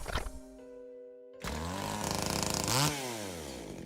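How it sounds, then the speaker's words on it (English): A chainsaw in a video game: a few faint tones first, then the engine bursts on loud and revs in a harsh, buzzing whine with a surge near the end. "Yes, sorry about the chainsaw."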